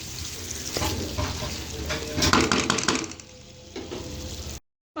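Chicken karahi simmering in a pan on a low flame, a steady soft sizzle with occasional stirring and utensil clinks, continuous and close, ending in a brief silence.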